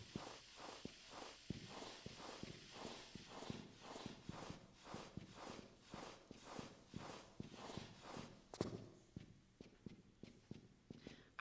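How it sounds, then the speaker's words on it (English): Footsteps in the video game Tomb Raider 3 Remastered, a steady run of heavy hard-surface steps with a clopping quality, close and even in rhythm, then fainter and lighter toward the end. "I hear footsteps."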